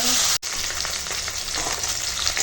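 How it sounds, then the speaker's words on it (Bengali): Hilsa fish heads fry in a pan with a dense, continuous crackling sizzle that drops out for a moment near the start and then carries on evenly, no talk. "আর এখন দেখো মাছের মাথাগুলো ভাজা হয়ে গেছে"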